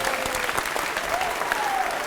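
A crowd claps steadily and loudly at a college quiz show, a dense continuous patter of many hands filling the room.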